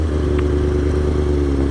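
A Kawasaki ZX6R Ninja 636 motorcycle idles up close, its exhaust giving a loud, steady, throbbing rumble.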